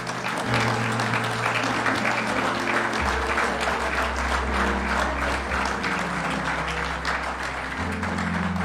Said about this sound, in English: Let's give our chief officers a round of applause.